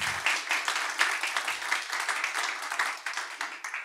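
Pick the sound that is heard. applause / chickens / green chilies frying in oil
applause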